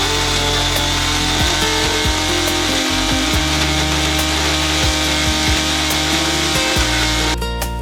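Loud, steady whirring of a kitchen mixer grinder grinding Oreo biscuits into powder, running continuously, then cutting off abruptly at the end.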